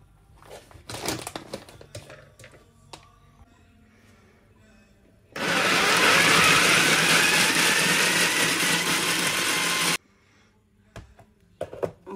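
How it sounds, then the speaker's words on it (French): Peanuts whir loudly in a food processor for about five seconds of steady, dense grinding, framed by softer kitchen clatter before and after. "On va venir mixer nos cacahuètes."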